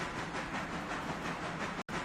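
A freight train labours up a steep grade in the Railroader video game, with a continuous rumbling, pulsing chug of moderate loudness and a brief dropout near the end, with no voices.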